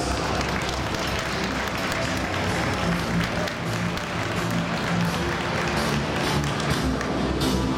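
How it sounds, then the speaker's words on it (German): An audience at a bodybuilding show applauds a youth development programme, a dense, continuous clapping crowd with low thumps and hall rumble beneath, steady and fairly loud across the whole stretch. "Das ist nochmal euer gemeinsamer Applaus."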